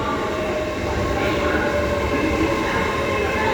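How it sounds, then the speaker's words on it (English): An LNER Azuma passenger train, unit 801219, arrives at Doncaster station on a Newcastle service, a loud close steady rumble of wheels and carriages with no talk heard. "London North Eastern Railway, Azuma"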